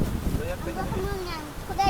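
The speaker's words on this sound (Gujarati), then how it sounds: "બહુ પવન છે પાડી દીધું બોલે એટલો પવન છે" Strong wind from a big storm buffets the microphone with a low, rough rumble while a person talks over it.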